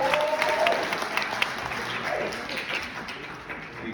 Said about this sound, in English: let's give a round of applause for our CTO right here